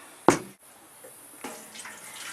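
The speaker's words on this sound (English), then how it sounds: "now I'm just pouring this into the kelp and worm mixture and molasses mixture into a watering can" Kelp, worm and molasses mixture poured into a watering can for seedlings, opening with a short splashing gush, then a quieter trickle and a later soft stream of liquid, close and without talk.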